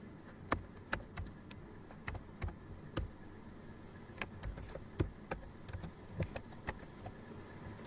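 Irregular bursts of crisp key clicks from a computer keyboard as code is typed into a program, sharp and close, with short pauses between groups of keystrokes and no talking.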